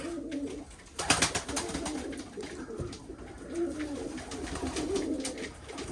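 Pigeons in a coop coo in low, throaty rolls, several birds overlapping, with rustling and a few wing flutters nearby.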